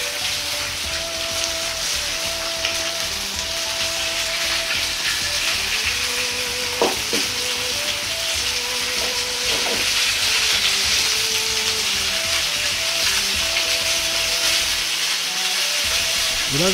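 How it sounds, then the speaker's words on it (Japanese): Pork slices sauté in a frying pan for a pork sauté with ketchup, giving a steady, close sizzle and crackle throughout, with faint musical tones beneath and occasional small clinks. "裏返したら裏面も焼き色がつくまで焼いていきます。"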